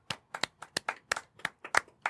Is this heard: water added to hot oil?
no